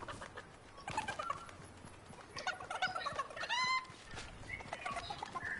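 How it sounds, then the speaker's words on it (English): A chicken in a video game clucks and squawks repeatedly in short, agitated bursts that rise into a sharp cackle midway, set against busy game background noise with no speech. "Oh my god, this chicken!"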